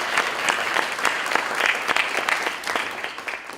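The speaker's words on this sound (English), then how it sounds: "So if we could just give them a round of applause and thank them for everything." An audience at a business forum applauds: dense, even clapping from many hands throughout, fairly close and loud, with no speech over it.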